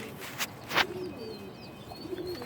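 Pigeons coo in a loft holding several males, among them khaki and doll-type birds, the low calls soft and intermittent against a quiet background with faint chirps higher up.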